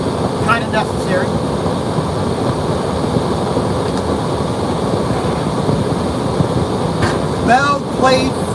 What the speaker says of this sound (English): Sorry for the AC noise,